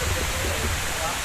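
Steady broadband rush of water at Swimming Falls, a waterfall tourist spot in Bulacan, holding loud and close with no break over a brief moment.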